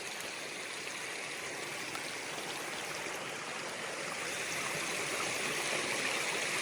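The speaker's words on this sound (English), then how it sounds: "We got this fresh little mountain stream." A small fresh mountain stream near a reservoir campsite flows steadily, a bright continuous rushing and trickling close by with no voices.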